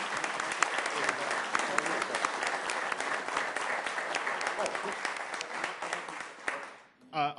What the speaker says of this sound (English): Let's give Devon a round of applause,